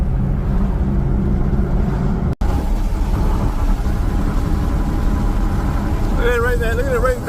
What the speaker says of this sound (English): Look at that racing car, y'all.